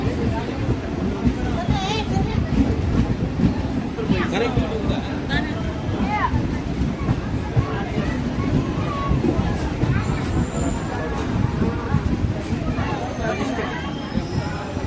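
A crowded railway platform at Kuppam station in India, with a constant murmur of many voices and a train rumbling nearby. Faint metallic squeals come through late on.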